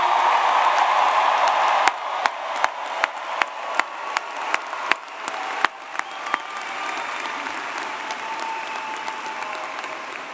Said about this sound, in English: How about another loud round of applause for our newest graduates?